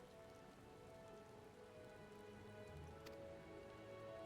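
Rain falls in the fantasy role-playing game Final Fantasy XIV as a soft, steady patter across surfaces, faint and continuous, with a low ambient game hum beneath and a single brief tick late on.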